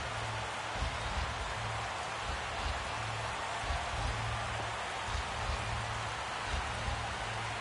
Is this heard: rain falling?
yes